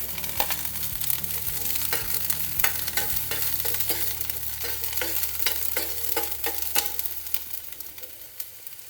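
Onions frying in a pan as the base of a soya chunk gravy, a steady sizzle with scraping stirs and clinks of a utensil against the pan throughout.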